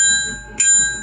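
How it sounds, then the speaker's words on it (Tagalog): A bicycle bell rings with a bright metallic chime, sustained tones ringing throughout, and a second strike just past halfway that renews the ring, close and loud. "Ayan, ganito yung bell."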